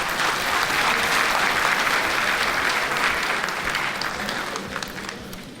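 Audience applause for Minister Sisulu at a water and sanitation master plan event, a sustained dense clapping from a large crowd that stays loud throughout and tapers slightly toward the end.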